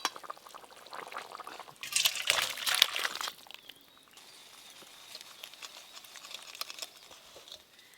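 Spicy fish curry in mustard oil with slit green chillies poured out from the cooking pot outdoors, a brief burst of liquid splashing and trickling around the middle, then fading to faint background patter.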